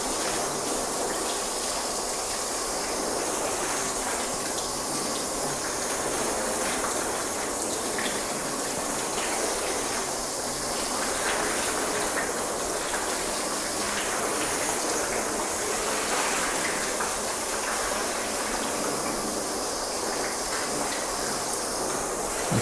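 Water from a hose rinses a freshly washed car panel, a steady, loud, continuous spray with a gushing quality that holds for the whole stretch without pause.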